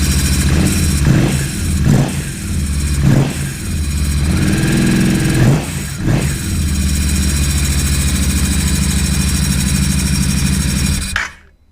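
Royal Enfield Interceptor 650 fitted with a Stratos performance air filter and duct, idling loudly up close with a deep rumble, then blipped through a series of short throttle revs before the sound cuts off.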